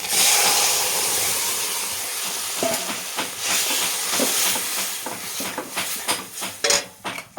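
A loud, sizzling hiss as moong dal is poured into hot oil with fried tempering spices, easing off into stirring and the clink of a utensil against a pan.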